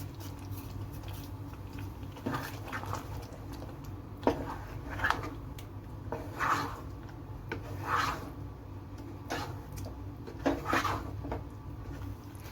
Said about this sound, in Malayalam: ഇത് നമുക്ക് കൈ കൊണ്ട് തന്നെ നന്നായിട്ടൊന്ന് പൊടിച്ചതിലേക്ക് ചേർക്കാവുന്നതാണ്